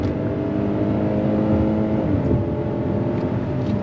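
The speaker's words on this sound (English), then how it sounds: "And you're gonna get that low down grunt from the torquey V6. But here we go, on throttle." Engine note of a 2023 Hyundai Palisade SUV with a torquey V6 and 8-speed automatic, pulling steadily on throttle from inside the cabin, a continuous low drone that holds even for several seconds.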